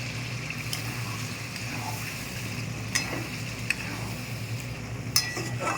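Boiled tarka lentils go into a hot pan and get stirred, a low bubbling sizzle underneath with a few sharp spoon scrapes and clinks against the pan, fairly quiet and close, no talking.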